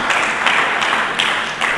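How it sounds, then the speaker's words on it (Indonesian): A church congregation claps steadily and continuously, a dense wash of applause with small swells, no voices over it. "Berikan tepuk tangan bagi Yesus Kristus Tuhan."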